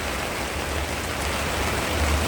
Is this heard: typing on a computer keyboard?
no